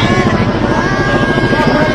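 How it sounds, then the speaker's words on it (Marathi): A helicopter flies close overhead, its rotor producing a loud, fast, rhythmic chopping thud over a steady engine drone that holds for the whole moment. "हेलिकॉप्टर आलं का"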